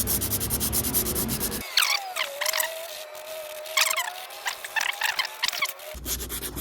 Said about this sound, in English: I'm gonna sand now by hand with 80 grit